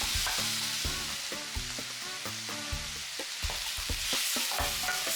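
Fresh tomatoes sprinkled with salt sauté in a pan for pasta alla Norma, a steady close sizzle with repeated stirring scrapes through the whole stretch and no voices.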